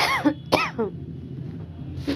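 A woman with a cold coughs: a few short, harsh, throaty coughs spaced apart, close and fairly loud, with quiet background.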